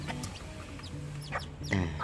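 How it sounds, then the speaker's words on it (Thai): Hens and chickens in a backyard flock cluck and chatter close by, with repeated short calls and a louder burst near the end. "นี่แหละครับ ไก่ของผม"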